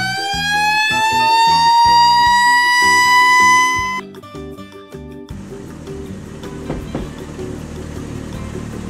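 Toy red fire truck siren, a loud electronic wail rising in pitch for several seconds, then cutting out into softer clicking and rattling of toy parts.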